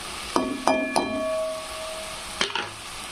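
Turmeric, garam masala and black masala fry in oil in a pan for egg curry, a steady close sizzle broken by four or five sharp metallic clinks of a spoon against the pan, a few ringing briefly, with no voices.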